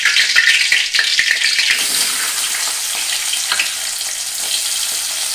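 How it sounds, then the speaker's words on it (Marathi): Onion dropped into hot tempering oil for Malvani chicken curry, a loud, bright sizzle that hisses steadily throughout, slightly softening after the first couple of seconds, with no talking. "प्रथम आपण कांदा फोडणीला घालायचा."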